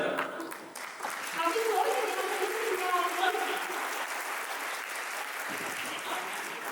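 An audience claps in a sustained wave of applause that swells quickly, holds steady, and slowly thins, with a voice briefly audible at the start.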